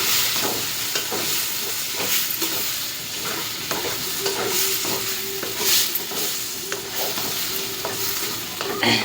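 Dondakai gravy curry fries in oil while a spoon stirs it steadily, giving a constant close sizzle with repeated scraping and clinking strokes and no voices.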